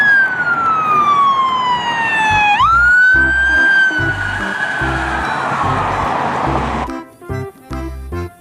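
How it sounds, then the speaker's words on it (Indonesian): A toy police car's electronic siren wails in a steady up-and-down sweep, loud and close, then gives way to a choppier beeping pattern near the end. "Mobil polisi."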